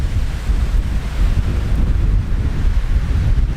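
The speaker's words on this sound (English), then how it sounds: "The wind's still pretty strong, but it did drop down a lot." Strong wind roars across an open lake in Nova Scotia, a loud continuous rumbling buffet against the microphone with a wash like lapping water, no voices.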